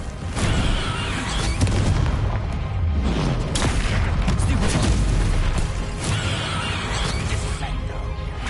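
A Bombarda spell in the Hogwarts Legacy video game sets off heavy booming explosions with crashing debris and rumble, rising and falling in bursts over game sound effects.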